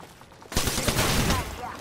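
Gunfire hits a player in Apex Legends: after a quiet moment, a rapid, loud volley of shots and impacts breaks out and keeps rattling, with a voice in the background.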